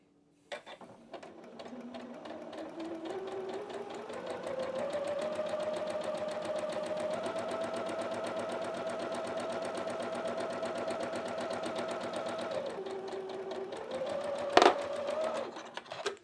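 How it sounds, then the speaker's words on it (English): A sewing machine stitches along a template edge on a quilted snowman face block, running at a steady whirring pace for over ten seconds, speeding up early and slowing near the end before a brief clack. "So we're going to sew right along that edge."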